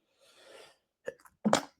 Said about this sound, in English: There's 2 sneezes already in this video.